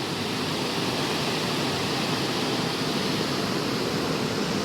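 A pressurized water jet sprays steadily at a car wash, making a loud, unbroken broadband hiss that keeps the same level throughout, with no voices.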